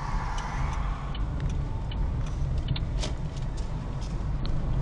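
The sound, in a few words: car left turn signal ticking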